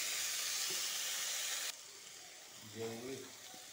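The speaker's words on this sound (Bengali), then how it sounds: "লাউয়ের পাতাটা ডুগার সাথে আর টমেটোর সাথে আলুর সাথে ভাজা হয়ে গেছে।" Gourd leaves fry with tomato and potato in a pan, giving a steady sizzling hiss that drops sharply partway through, followed by a brief voice.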